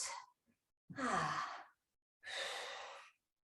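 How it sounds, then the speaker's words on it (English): Three audible breaths, a short one then two longer, airy exhales, during a guided seated arm-curl exercise in a senior and beginner fitness class, close and clear with silence between. "Breathing in and breathing out."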